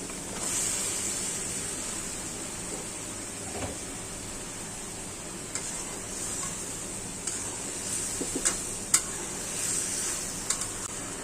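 Sponge gourd (dhundul) sautés with a little spice in a pan: a constant bright hiss of frying, with scattered soft clinks and scrapes of stirring toward the end.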